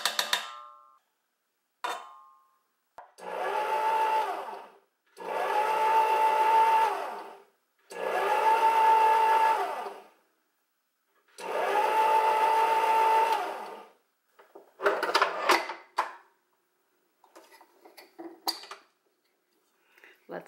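Hamilton Beach 63325 six-speed stand mixer on its fold setting, whirring in four held bursts of about two seconds each with short pauses between, followed by softer clinks and handling noises.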